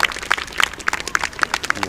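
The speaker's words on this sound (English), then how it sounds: "give those pupils and those staff in particular a big round of applause" Round of applause for pupils and staff at a school sports day, clapping with a few distinct rhythmic claps standing out over a crowd, with talk underneath.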